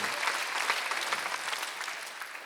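A church congregation at a Sunday worship service applauds in a dense, steady wash of clapping that carries on evenly throughout.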